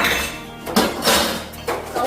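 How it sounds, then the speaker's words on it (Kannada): Kitchen vessels and utensils clink and clatter as they are stacked and put away at home, several sharp metallic knocks in an uneven rhythm, close and fairly loud. "ಅವ್ರ ಹೆಲ್ಪ್ನ ತೊಗೊಂಡು ಈ ಪಾತ್ರೆಗಳೆಲ್ಲ ಅದರ ಜಾಗದಲ್ಲಿ ಜೋಡಿಸ್ಕೊಳ್ತಾ ಇದ್ದೀನಿ"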